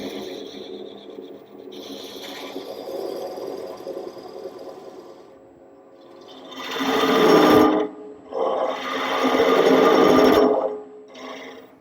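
Wood lathe turning a chair stump blank in a woodworking shop. A steady mechanical hum runs for about six seconds, then two loud, rough bursts of cutting come close up, separated by a brief pause.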